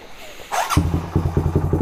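Honda Sonic 125 motorcycle ridden on a test run, its engine settling into a steady, close low rumble with rhythmic pulsing after a brief burst of rustling noise.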